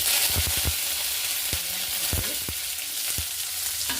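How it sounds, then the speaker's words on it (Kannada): Mustard seeds, cumin, crushed garlic and curry leaves crackle in hot oil for a chickpea usli, a loud close sizzle with sharp pops and a few stirring knocks against the pan, no talking. "ಸ್ವಲ್ಪ ಸಾಸಿವೆ ಜೀರಿಗೆ ಹಾಕೋತೀನಿ. ಸ್ವಲ್ಪ ಜಜ್ಜಿಟ್ಟಿರುವಂಥ ಬೆಳ್ಳುಳ್ಳಿ, ಸ್ವಲ್ಪ ಕರಿಬೇವು,"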